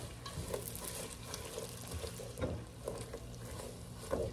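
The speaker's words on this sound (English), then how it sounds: "You want to cook your onions down a little bit?" Onions fry in a pot for a seafood boil butter sauce, a faint steady sizzle with soft stirring taps, heard alone at low level.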